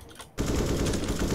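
Rapid automatic gunfire bursts out loudly in Counter-Strike: Global Offensive after a brief quieter moment and continues as a dense, continuous stream.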